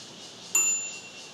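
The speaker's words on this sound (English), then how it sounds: "Other than that, I got a bell here." A single bright ding from a bicycle bell on a Giant Contend road bike, one sharp strike that rings out and fades over a steady background hiss.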